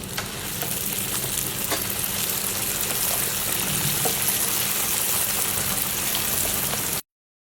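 Lachha vermicelli fries in warm oil with an even, continuous sizzle and bubbling, dotted with faint clicks and light stirring sounds, close and unbroken throughout.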